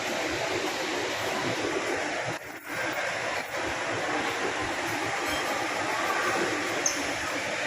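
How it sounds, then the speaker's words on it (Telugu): An inter-terminal airport train pulls in, a steady broadband rumble and hiss of rail motion filling the space at moderate level with only a brief dip partway through. "టెర్మినల్ 2కి వెళ్ళాలంటే ట్రైన్కి వెళ్ళాలాగా. అది వస్తుంది చూడండి ట్రైన్."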